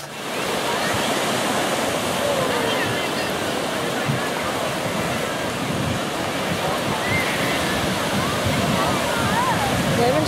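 Big ocean waves breaking at a beach on Hilton Head, a loud, steady wash of surf that fills the whole stretch without a break, with faint voices now and then beneath it.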